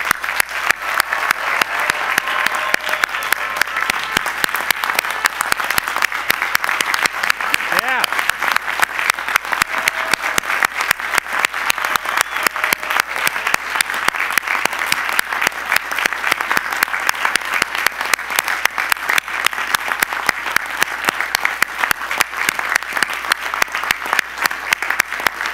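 Commencement audience of faculty, family and friends applauding graduates, a dense, sustained round of clapping that holds steady and fairly loud throughout with no break.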